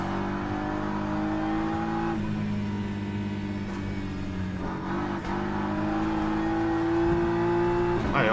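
A car engine drones and revs on the Nürburgring Nordschleife, heard from inside while closing on a Porsche Cup car ahead, with loud steady engine tones shifting pitch through gear changes and no talk.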